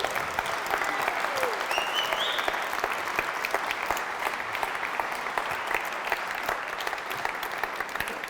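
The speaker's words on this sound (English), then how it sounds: "give them a round of applause" An audience claps steadily and warmly for jazz musicians taking their places at a talk, a dense, even wash of applause that holds for several seconds.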